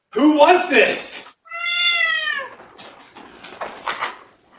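A pet cat lets out a drawn-out, clear meow in a household room, framed by a person talking just before and after it.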